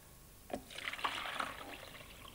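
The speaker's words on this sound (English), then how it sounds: "now I can add some cold water, like that, and pour it into my jelly mould." Cold water pours into a jelly mould in short splashy bursts, faint and close, in a quiet room.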